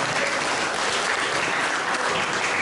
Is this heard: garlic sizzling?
no